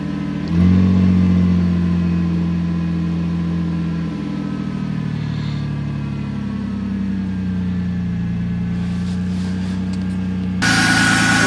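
A cold Ford Contour that had sat unused, running just after a battery replacement: a steady mid-pitched engine drone holds close and fairly loud throughout, easing slightly partway, with a brief rise in rev near the end.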